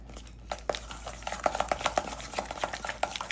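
Cream cheese custard mixture with custard powder being stirred by hand in a bowl, making soft, irregular scraping and tapping strokes that quicken and grow louder partway through, with no one talking.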